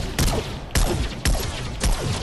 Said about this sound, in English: I'm shooting the Iron Man cannon,